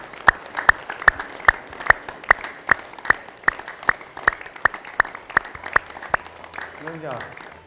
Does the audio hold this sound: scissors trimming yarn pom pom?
no